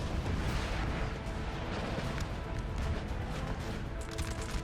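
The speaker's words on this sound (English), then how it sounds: "Seeing some artillery fire and howitzer fire come in of late." Artillery and howitzer fire in Napoleon: Total War rumble as dense, overlapping distant booms, a constant low roar of battle with no single shot standing out.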